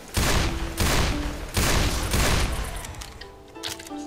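Video game gunfire in a shooter, several loud bursts of rapid shots in close succession, each lasting about a second, with short gaps between them and a fading tail of lighter shots at the end.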